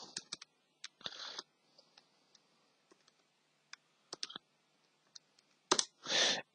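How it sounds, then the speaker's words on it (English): Calculator buttons pressed one after another, sharp isolated clicks at an irregular rhythm, close and fairly quiet, with a louder cluster of presses at the end. "So we can just type that into our calculator,"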